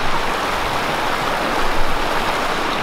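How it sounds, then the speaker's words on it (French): A small river in Corsica rushes steadily nearby, a constant broadband babble of flowing water with no talk over it. "Au bord d'une petite rivière"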